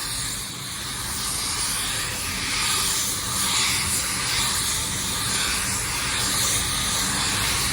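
A paint spray gun lays down the first coat on a panel, producing a loud, continuous airy hiss that holds steady throughout with slight swells, heard alone without speech.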